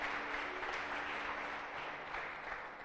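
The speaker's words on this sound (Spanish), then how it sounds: "Dale una ofrenda de palmas al Señor." Church congregation applauding during a sermon, a dense, steady wash of clapping from a crowd, moderately distant, holding throughout.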